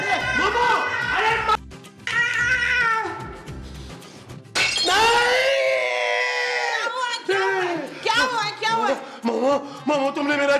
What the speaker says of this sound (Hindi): तुमने मेरा जादुई शीशा तोड़ दिया है